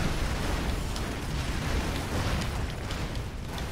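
Constant dense roar of explosions and bursts from the side-scrolling action game Broforce, loud and continuous without break.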